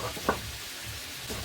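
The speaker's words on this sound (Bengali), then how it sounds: "ও মাংসটা ভাজা করতে হবে।" Meat fries in a hot wok, giving a soft, steady sizzling hiss with one brief clack of a utensil.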